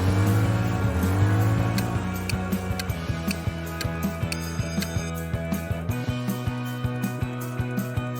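Lexus LS 400 with a 4.0-liter V8, its engine running with a steady mechanical hum and layered tones that shift after a few seconds, joined by a regular ticking, clicking rhythm throughout; no talking.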